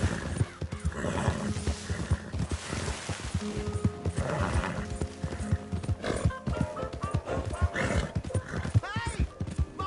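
Quick, rhythmic hoofbeats of a galloping horse in Red Dead Redemption 2 with a few whinnies, loud and close, mixed with game sound effects and a voice.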